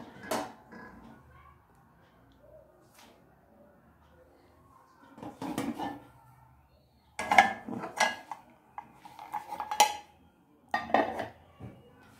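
Metal frying pans handled in a home kitchen, giving a few scattered clinks and clatters of cookware, moderately near, with quiet pauses in between and faint talk early on.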